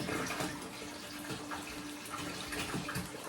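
Water runs and splashes gently as it is poured into a frog tank, a soft, steady trickle at close range lasting a few seconds.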